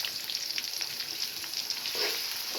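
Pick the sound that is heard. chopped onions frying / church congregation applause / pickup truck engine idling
chopped onions frying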